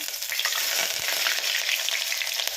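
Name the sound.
onions frying in oil with bay leaf and spices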